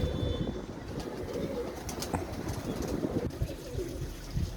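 Pigeons in a loft flutter and shuffle close by, with soft wing flaps and faint cooing over a steady outdoor background hum.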